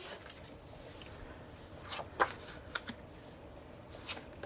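Calendar cards from a K-pop group's season's greetings set being handled, quiet papery slides and light taps in a short cluster, close and faint with no talking.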